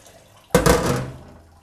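Water from overnight-soaked chickpeas pours out suddenly through a strainer, a close, loud splashing rush that tapers off over about a second, with no talk.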